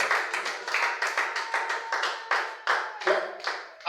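A church congregation claps in steady rhythm to acclaim the Lord, a fast, even run of roughly two claps per second, close and lively, with no talk over it.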